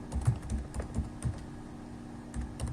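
Keys clacking on a computer keyboard as an email address is typed at a login screen, a quiet run of irregular, close taps with short pauses between bursts.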